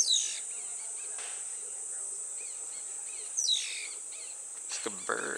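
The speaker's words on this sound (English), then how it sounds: "It's a really cool mongoose noise." Shrill, chirping mongoose calls, bird-like and descending, come in short bursts over a constant high insect drone at a camp, with a sharper, louder call near the end.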